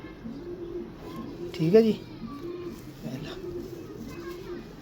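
Pigeons coo repeatedly at close range in a loft, with soft rolling calls spread across the span and a brief louder flutter midway, while someone speaks briefly.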